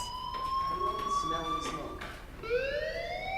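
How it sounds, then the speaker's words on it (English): A fire alarm rings in the Life is Strange video game, a steady tonal electronic wail that rises in pitch, sounding distant and faint beneath voices speaking over it. "Hey, do you hear that fire alarm?"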